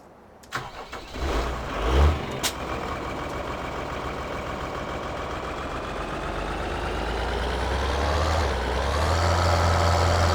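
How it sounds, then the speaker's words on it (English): A tractor engine in the Farming Simulator 2013 game starts with a few sharp knocks, then settles into a steady, loud drone that slowly rises in pitch as it drives. "Let's take our tractor back now."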